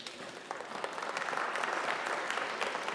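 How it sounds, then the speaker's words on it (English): Applause from an auction audience after a record-setting sale, a swelling wash of clapping hands that builds from scattered claps into steady, sustained applause, moderately distant in a large room. "That deserves clapping."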